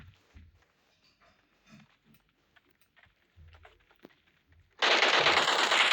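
Machine gun fire erupts in a video game, a loud continuous burst arriving suddenly near the end after quiet, muffled game sounds and thumps.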